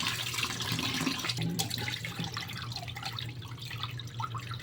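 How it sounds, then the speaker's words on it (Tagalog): Rice for puto bigas being rinsed in water, with steady running-water splashing and dripping that continues without a break for a few seconds at close range. "Huhugasan natin siya ulit guys."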